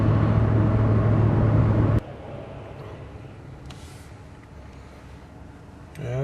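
A 2011 Ford F-150 FX4 with the 5.0 V8 and a Magnaflow exhaust idles loud and deep for about two seconds, then drops to a quieter steady rumble, with a brief rise at the end.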